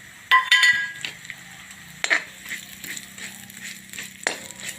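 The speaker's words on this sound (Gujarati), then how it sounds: "હવે આપણે ખસખસ નાખીશું અંદર।" Poppy seeds and dry fruits dry-roasting in a pan for panjiri, with a few bright metallic clinks and scrapes of a stirring spoon over a soft, steady low hum.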